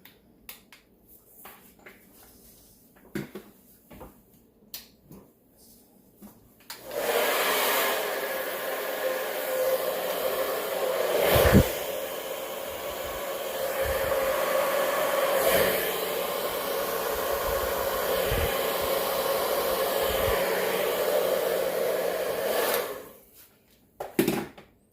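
A strong, steady stream of air blows wet acrylic paint across a Dutch pour painting. Quiet taps come first, then about fifteen seconds of even whooshing before it cuts off.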